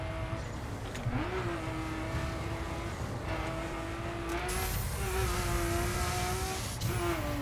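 A car engine racing at high speed through trees in The Crew video game, a loud continuous whine with shifting pitch as gears change, steady and close throughout.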